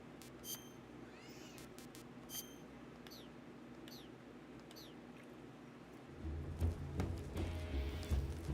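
Cat meowing in Metal Gear Solid 3, a few short rising meows spaced out over quiet game ambience, followed by a louder rumbling stretch near the end.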